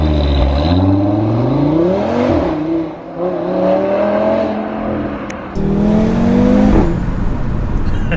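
Audi RS3 Saloon facelift engine accelerating hard, a loud, close rising growl that climbs through the gears with a brief dip at a shift, then surges again, heard without talk.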